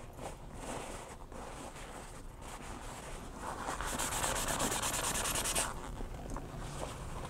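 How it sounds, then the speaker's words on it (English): Napkin rubbing over chalky paper journal pages makes a soft, close, continuous scuffing that grows firmer and brighter midway, then eases off. "you gotta really rub to get it off"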